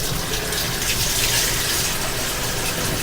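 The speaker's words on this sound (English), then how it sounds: "Wash my hands real quick." Hands are washed under a running kitchen tap, a steady, loud, close gush of water that does not change over the clip, with nobody speaking.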